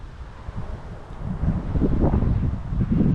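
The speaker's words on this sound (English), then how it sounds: "Damn, it's windy." Gusty wind buffets the microphone, a low rumbling roar that builds and grows stronger over a few seconds, with faint rustling underneath.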